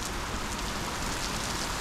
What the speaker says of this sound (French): On entend la pluie tomber là-haut, là à côté.